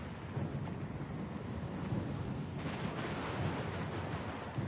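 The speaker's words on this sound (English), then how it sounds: "Lost and alone in the storm?" Stormy weather in Pillars of Eternity 2: a dense, continuous roar of rain and wind with deep rumbling thunder swelling midway, steady and enveloping with no voices.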